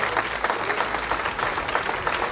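A hall audience applauds a retiring doctor at the mayor's New Year greetings in Saint-Martin-de-Hinx. The clapping is steady, dense and continuous, with no pauses.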